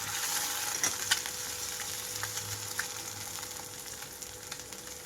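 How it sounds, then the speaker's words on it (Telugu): Eggs frying in a pan over a low-to-medium flame, giving a steady, fairly quiet crackling sizzle with a few sharper pops, and no voices. "రెండు వైపులా చక్కగా పచ్చివాసన లేకుండా వేగిపోయే వరకు లో టు మీడియం ఫ్లేమ్ అడ్జస్ట్ చేసుకుంటూ వేయించుకొని పక్కన పెట్టుకోవాలి"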